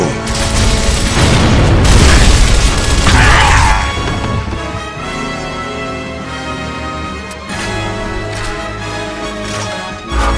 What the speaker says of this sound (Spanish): ¡Lanzando granada!